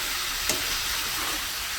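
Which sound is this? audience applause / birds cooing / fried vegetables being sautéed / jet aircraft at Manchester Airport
fried vegetables being sautéed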